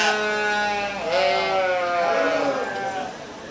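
Show sheep and market lambs at a 4-H livestock judging contest at a county fair give loud, wavering bleats, several calls overlapping close by in a busy barn.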